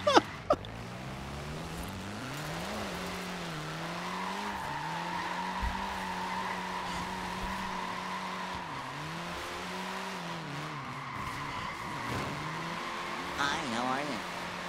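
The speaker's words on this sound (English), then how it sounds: "I'm going to show you guys the way that I enter a tandem drift." Cars tandem drift in the racing game Forza Horizon 4, with engines droning and whining through shifting revs and a long sustained tire squeal over about fifteen seconds. A voice talks faintly beneath them.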